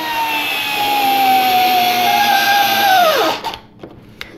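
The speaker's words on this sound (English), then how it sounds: "You just line it up, make sure I'm in forward and not reverse, and pop the screw in." Dremel GO cordless screwdriver driving a small screw, a loud steady motor whine that slowly drops in pitch as the screw seats, then cuts off, followed by a couple of faint clicks.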